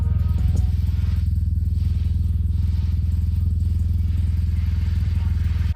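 A large motorcycle's engine drones steadily at close range, a constant low rumble with faint clatter on top, continuing throughout.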